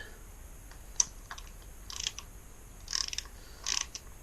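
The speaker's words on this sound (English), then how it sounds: "so now we can get our 8mm socket back out and" Small 8mm socket ratchet tightening bolts on a Kawasaki Z125 Pro motorcycle, giving a few short bursts of quick clicking spaced over several seconds, close and fairly quiet.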